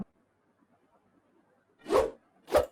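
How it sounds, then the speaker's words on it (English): Two short, full whooshes of a designed sword-slash effect for a game, each a quick rushing swish after near silence, the second following closely on the first. "So that's a whooshing sound effect,"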